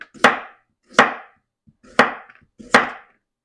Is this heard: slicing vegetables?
yes